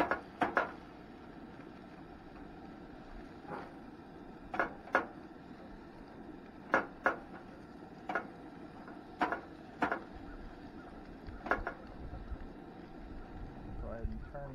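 Salmon being stirred in a pan at a roadside camp in Mark Twain National Forest, with sparse scrapes and metallic clinks of utensil on pan spaced out over a low steady background, and a person talking throughout.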